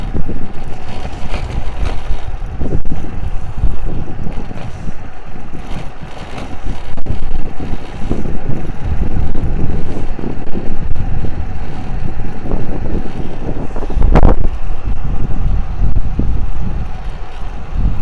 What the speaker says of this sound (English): Not even pedalling. Wind's behind me.